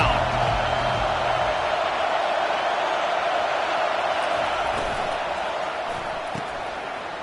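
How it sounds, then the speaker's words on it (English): A home crowd roars steadily in College Football 25 as the defense tries to get off the field on third down, a loud continuous wash of cheering that slowly eases, with a commentator talking over it. "Here comes this home crowd as the defense tries to get off the field on 3rd down."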